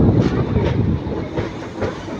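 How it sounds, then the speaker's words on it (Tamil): A train pulls into Palakkad station on an on-time run from Coimbatore, a loud, steady rumble of wheels and carriages with faint rhythmic clatter, continuous and close with no talking. "கரெக்டான டைமிங்கில் வருதுங்க இந்த ட்ரெயின்"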